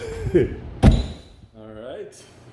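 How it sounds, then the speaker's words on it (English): A heavy door about 8 inches thick, built like a refrigerator door, at the South Pole Station in Antarctica thuds shut with one sharp, close impact. A voice talks before it and afterwards, with a low rumble continuing. "I would point out the door itself is about 8 inches thick. It is like a refrigerator door."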